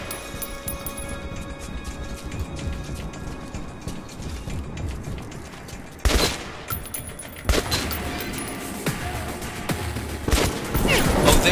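Gunfire in the first-person shooter Metro 2033 Redux, with sharp broadband shots at about 6, 7.5 and 11 seconds standing out over a busy bed of mechanical clanks, ratcheting and game ambience.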